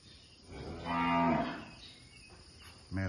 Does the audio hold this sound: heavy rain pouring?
no